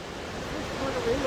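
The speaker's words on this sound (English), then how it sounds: "You can hear the water rippling right next to us." Cascading creek water at Chilnualna Falls in Yosemite, rushing over worn boulders as a steady, broad noisy wash close by, with a faint hint of a voice toward the end.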